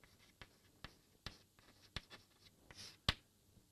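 A lecturer writes on a board with a series of sharp, close taps and scratches at a steady rhythm, ending on one louder knock, no voices.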